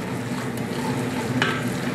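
Vegetables and tomato paste stirred in a pan for shrimp creole, giving a steady soft sizzle with light scraping, close and continuous throughout.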